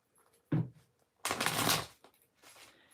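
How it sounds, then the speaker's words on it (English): Tarot reading cards are shuffled in two quick bursts, a short riffle followed by a longer one, close and crisp, with a faint trailing rustle and no talking. "many readers that do that, like they shuffle like that"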